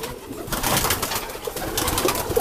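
Roller pigeons in a loft, soft cooing and low bird murmurs over a rustling background, moderately close and continuous.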